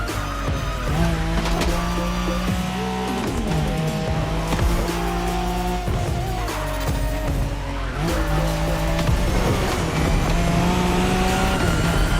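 Nissan Skyline race car in The Crew Motorfest, engine roaring loud and close through repeated gear shifts, revs rising and dropping, with tire squeal and skidding throughout.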